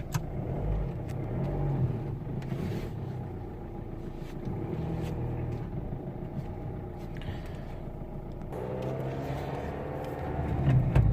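A Dodge Caliber driving on the road, its engine a steady low rumble with tire and road noise, swelling slightly as it speeds up near the end; no voices.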